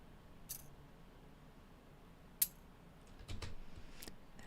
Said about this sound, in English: I kind of like that this little clicky sound